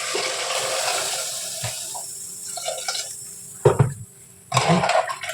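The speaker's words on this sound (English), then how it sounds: "So let's try to pour the water." Warm water poured from a kettle into a pot while cooking in a home kitchen, a close, gurgling splash that starts and stops in short bursts with brief pauses between.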